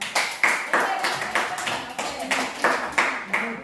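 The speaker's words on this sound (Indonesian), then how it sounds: "tepuk tangan dulu untuk" A class at a junior high school claps together in a rhythmic group pattern, with sharp, even bursts of about three per second that repeat in short sets, loud and close, with voices mixed in.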